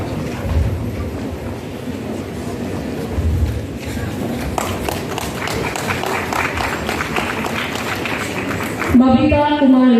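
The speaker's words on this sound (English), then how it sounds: "A huge round of applause" Audience applause at a student award ceremony: a broad wash of clapping rises and holds for several seconds, mixed with a voice speaking over a loud hall ambience.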